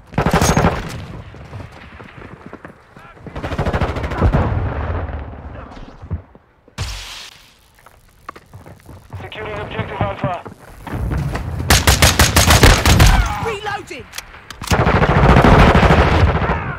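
Battle rifle fire in the video game Modern Warfare 2 comes in loud bursts of rapid shots separated by short pauses, with other in-game gunfire and a voice talking between them.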